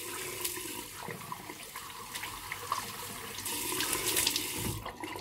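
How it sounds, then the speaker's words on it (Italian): Hot water runs from a tap for rinsing during a wet shave, a steady close splashing stream with small fluctuations, without talk. "Sciacquiamo. Acqua calda."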